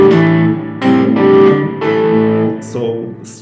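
Guitar playing level 4 of a song: clean, close plucked notes and chords in straight, even rhythm, each attack ringing out and sustaining.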